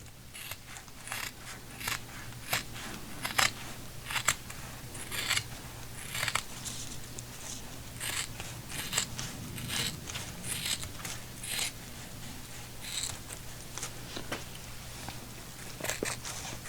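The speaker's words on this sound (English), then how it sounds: "I'm going to do that with these scissors because it's very minute." Scissors snip repeatedly at carpet being trimmed to fit a Ranger boat compartment lid, a long series of sharp, close cuts at an irregular pace over a faint low hum, with no speech.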